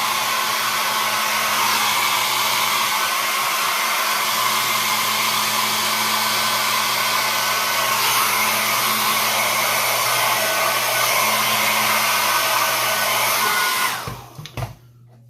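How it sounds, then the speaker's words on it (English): Hair dryer on a cold setting blows steadily onto a beard, a loud continuous whooshing roar with a low motor hum that runs for about fourteen seconds before cutting off abruptly. "go ahead and blast it with some cold air"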